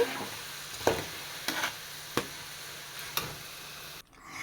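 Green gram (mung beans) frying crisp in hot oil for a homemade snack mixture, with a soft steady sizzle under five sharp stirring scrapes or clicks spaced about a second apart, then quieter.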